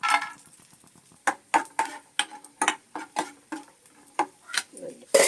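Peanuts frying in hot oil in a pan, a series of sharp crackling pops and clicks in an irregular rhythm over a faint sizzle, close and moderately loud.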